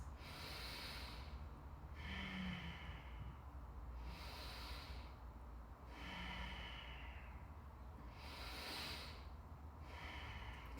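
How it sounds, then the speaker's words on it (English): Slow, deep breaths during a vinyasa yoga pose, with three long airy inhale-exhale cycles heard close and steady, alone with no talking. "3 more breaths."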